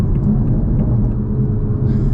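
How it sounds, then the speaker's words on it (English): Toyota MK5 Supra with the B58 engine pulling hard in third gear around 45, a steady loud low engine drone with turbo whir, close and continuous with no talk. "That torque, like the turbo spools up real quick."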